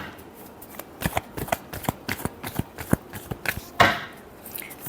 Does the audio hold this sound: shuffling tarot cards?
yes